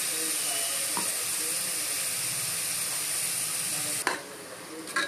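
A ground paste of tomato, coconut, cinnamon and fennel sizzles steadily in a hot pan as it is sautéed, a continuous close hiss with a couple of brief stirring knocks near the end.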